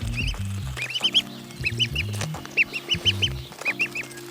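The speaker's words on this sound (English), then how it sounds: "this duck loves roly-polies" A duck quacks in short repeated bursts while eating roly-polies in a homestead garden, loud and close, the quacks coming in quick clusters with brief pauses between.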